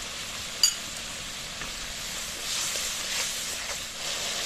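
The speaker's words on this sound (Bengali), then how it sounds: "মশলাটা কষানো হয়ে গেছে, মশলা দিয়ে তেল ছাড়তে শুরু করেছে" Masala spice paste slowly fried in oil, with hot water and a little sugar added, cooked until the oil separates, for a katla fish curry with okra; a soft, steady sizzle with faint crackles, no voices.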